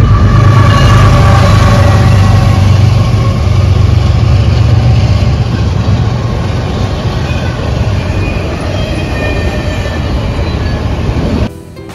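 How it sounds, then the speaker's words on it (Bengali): A train rolls past close by near a downtown station platform, a loud, steady rumble of wheels and cars filling the whole stretch before cutting off abruptly at the end. "এই ট্রেন ইজ কামিং।"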